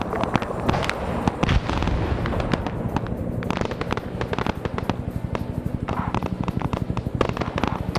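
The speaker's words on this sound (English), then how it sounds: "Friendly airstrike just hit as well." Airstrike explosions in the Arma military video game: a dense barrage of sharp cracks and booming blasts, rapid and irregular, loud and unbroken by speech.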